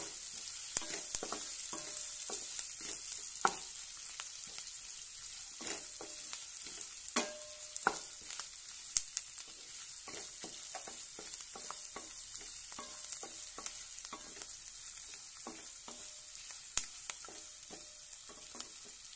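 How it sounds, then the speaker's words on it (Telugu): Curry leaves fry in oil in a pan, a quiet steady sizzle scattered with sharp crackles and pops that continues alone without talk. "ఇప్పుడు వేసుకుంటున్నాం కరివేపాకు. ఇవి బాగా గోల్డ్ కలర్ వచ్చే వరకు"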